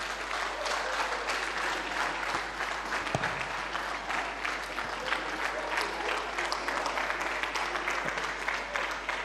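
Audience applauding a minister at a press briefing in Abuja, a sustained, even wash of clapping from a fairly large crowd at moderate distance, continuing without pause.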